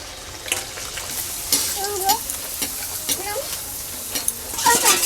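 Luchi frying in hot oil for a chicken gravy dish, a steady bubbling sizzle with clinks of a utensil and brief stirring sounds, close and fairly loud, with no talking.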